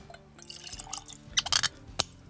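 Hancock's President's Reserve single barrel bourbon whiskey being poured into a glass, a soft trickle and a few bright drips and clinks close by, with no talk.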